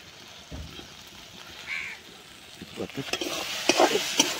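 Food is stirred and fried in a pan, with a steady sizzle under scraping spatula strokes that grow busier toward the end.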